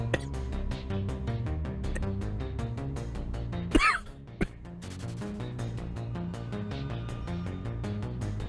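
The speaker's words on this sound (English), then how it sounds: "Kind of forced that cough out." One sharp, forced cough, quickly followed by a shorter second burst, cutting through steady music playing underneath.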